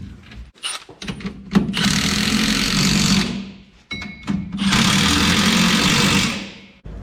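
Impact wrench tightening lift kit suspension bolts on a Dmax / Colorado, with two long, loud mechanical bursts of rattling hammering, each about two seconds, separated by a short pause and preceded by brief clicks and knocks.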